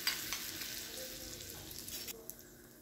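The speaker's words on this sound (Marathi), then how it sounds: "आता इथं तेल गरम केलेलं, यामध्ये मिरची टाकायची," Chillies and asafoetida sizzle in hot oil for a dal tadka, a faint close crackle that fades and softens after a couple of seconds, with no talking.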